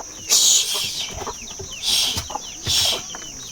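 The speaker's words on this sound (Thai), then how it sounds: "ไก่" A chicken clucks close by in three short, bright bursts spaced about a second apart, with quiet rustling between them.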